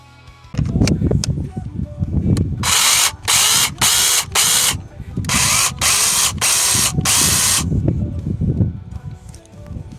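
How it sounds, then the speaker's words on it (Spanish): A battery-powered mini chainsaw with a 15 cm bar and a freshly oiled chain runs in two loud bursts of high whining buzz, with clattery handling and mechanical noise between and around them. "Vamos a ponerle un poco de aceite a la hoja de sierra para probarla y que veáis cómo funciona."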